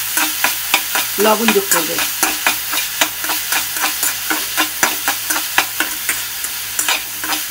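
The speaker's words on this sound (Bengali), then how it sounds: "এইভাবে 2-3 মিনিট ভাজার পরেই দেখবে সবজিগুলো মজে এসেছে" Vegetables fry in a pan with a steady sizzle while a spatula scrapes and stirs in quick, regular strokes, close and fairly loud, with a brief spoken line partway through.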